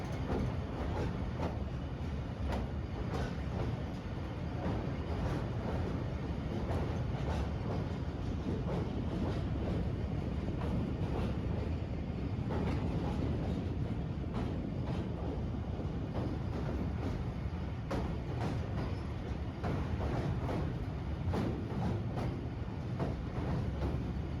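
Pakistan Express passenger train creeping at very low speed over a canal bridge near Hafizabad, heard from on board: a continuous low rumble with steady rhythmic wheel clatter and faint metallic squeals, no speech.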